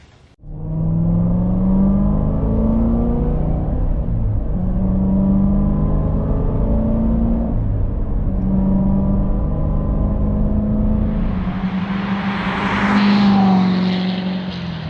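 A Corvette C7 with a titanium X pipe exhaust revs hard and holds a loud, steady engine drone, with pitch rising and falling through several rev changes and a final climb near the end.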